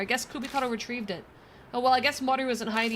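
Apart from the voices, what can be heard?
No everyday noise stands out behind the speech.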